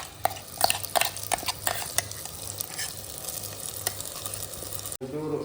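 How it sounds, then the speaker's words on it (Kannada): Chili paste for a village-style Mangalorean crab dish frying in hot oil, with steady sizzling and repeated scraping clinks of a stirring utensil against the pan, close and fairly loud, cutting off abruptly near the end. "ಈಗ ಎಣ್ಣೆಯಲ್ಲಿ ಅದನ್ನು ಸ್ವಲ್ಪ ಫ್ರೈ ಮಾಡಬೇಕು"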